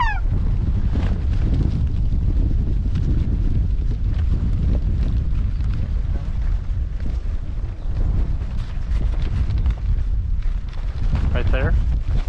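Strong wind buffets the microphone without a break during a field goose hunt, a steady loud roar with faint goose calls breaking through now and then.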